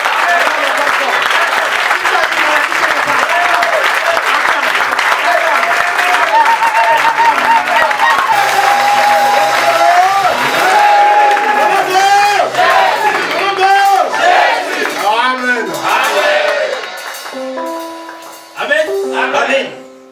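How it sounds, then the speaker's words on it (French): A church congregation cheers and applauds in loud, sustained acclaim, a dense wash of clapping and shouting voices that holds steady for most of the stretch before thinning near the end. "Nous allons acclamer. Et pendant qu'on acclame, tous ceux qui sont possédés sont libérés."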